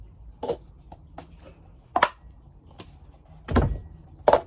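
Cup song rhythm played by a parent and child: sparse hand claps and hard cup taps and slides on a table, spaced irregularly with quiet gaps, moderately near.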